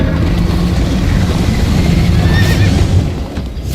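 A horse from the Minecraft Story Mode video game whinnies loudly with running hoofbeats pounding steadily beneath it, the galloping continuing throughout before easing slightly near the end.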